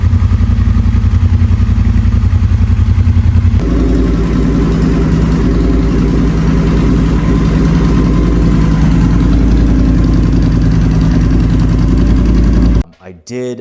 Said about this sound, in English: the Motune pipes make the bike just sound absolutely insane